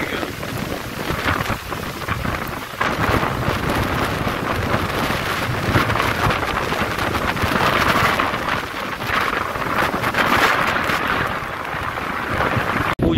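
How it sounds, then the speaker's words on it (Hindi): A strong storm wind blows during an outdoor puja in a hill village near Ramnagar. It is a loud, steady, broadband roar that keeps going without a break for the whole stretch, with no clear talk. "बड़ी तेज तूफान चल रहा है"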